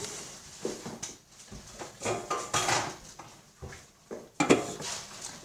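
Metal cake tin being taken out and handled in a home kitchen while making chocolate cake, a string of close clattering knocks and scrapes of pans and utensils, uneven and moderately loud, with no talk.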